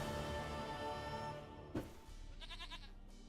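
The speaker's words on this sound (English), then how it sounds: "Goat of mine, dearest, sweetest goat." Goat bleats in the video game Witcher 3 over a steady musical background, with a sharp burst near the middle followed by a rapid wavering bleat; no talk.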